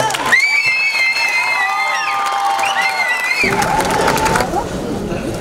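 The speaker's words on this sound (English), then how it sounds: "Now give them a big round of applause." Audience at an international festival celebration stage show applauding and cheering, a loud dense crowd with whoops and high shouts continuing throughout, the clapping thickening toward the end.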